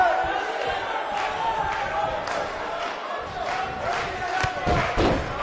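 Passionate crowd cheering and roaring in a wrestling arena during a live match, a dense, steady wall of voices with scattered thuds and louder swells near the end.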